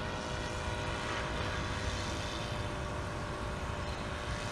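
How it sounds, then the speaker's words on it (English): Steady, even drone of an SK1000 unmanned helicopter hovering in place, its rotor and engine noise continuous and fairly loud with no break or voices. "the helicopter will come to a stop and maintain hover"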